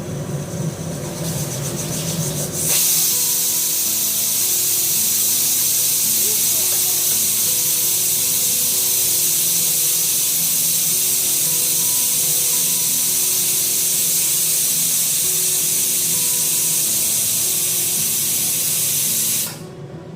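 A kitchen pressure cooker venting steam in a loud, sustained hiss that starts abruptly and holds steady for many seconds before cutting off, nearby and with no talk over it.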